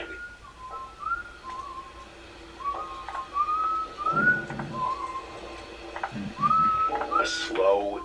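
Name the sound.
eerie whistling tune sound effect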